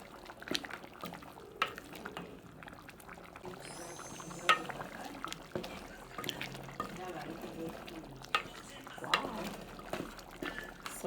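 Cooked tomatoes are mashed in a pot for a beef stew base, giving wet squelching, sloshing and scraping, close and fairly soft, with someone talking over it.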